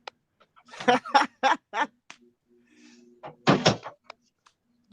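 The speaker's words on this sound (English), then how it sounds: "I got somebody knocking at my door." Knocking on a home door: four quick, evenly spaced raps, then a few more a couple of seconds later, close and fairly quiet, with a faint voice in between.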